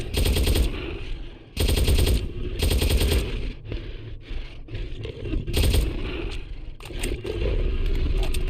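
Bursts of automatic machine-gun fire in a horror video game set in the St. Dinfna Hotel, loud, close rapid volleys in several separate strings with brief pauses between them, and no talking.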